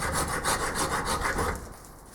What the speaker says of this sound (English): Gonna file it because I can't get in close enough with the lathe without it catching.